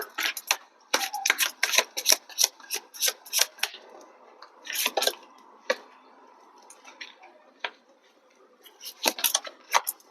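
Tarot cards being shuffled by hand, a series of quick crisp riffles and flutters in bursts with short pauses between, close and clear with no voice.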